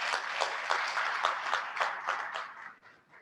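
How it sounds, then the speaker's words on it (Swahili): An audience at a conference opening session claps together in a dense, steady burst of applause that fades slightly toward the end, heard from within the room. "Tumpigeni makofi."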